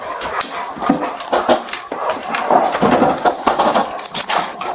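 A pup whimpers and yips in a run of short, high cries during an animal welfare check, close and fairly loud, with some scuffling underneath.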